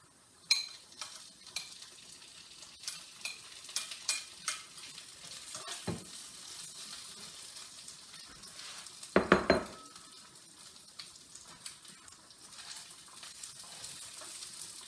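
Half-cooked potatoes and onions fry in a pan while a utensil stirs them. A close sizzle runs throughout, with repeated scrapes and clinks against the pan and a louder clatter of stirring near the middle.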